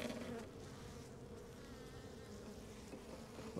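Dense, continuous buzzing of a honeybee colony close by, a steady droning hum with no other sounds.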